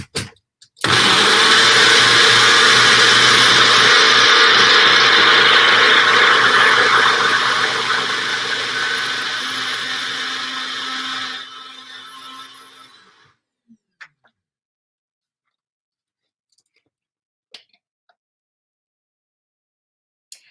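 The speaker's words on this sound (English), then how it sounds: "Okay, so I'm going to blend. It's going to be a little bit loud here." Countertop blender whirs loudly, blending a homemade vegan salad dressing, a harsh steady roar for about ten seconds that then spins down and stops, followed by a few faint clicks and quiet.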